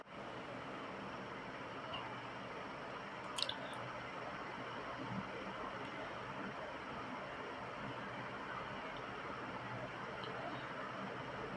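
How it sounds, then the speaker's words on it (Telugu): Chicken pickle being stirred together with masala spices gives a continuous wet, squishy mixing sound at close range, with no pauses across the whole stretch. "బాగా మొత్తము మసాలా అన్నీ కలిసే విధంగా కలుపుకోవాలి"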